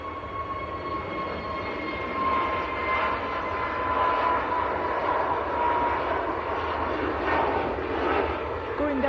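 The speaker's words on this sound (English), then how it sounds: "that's Jet2's brand new A321neo." A Jet2 Airbus A321neo passes at an airport, its engine roar swelling and sustained at moderate distance, with people talking over it throughout.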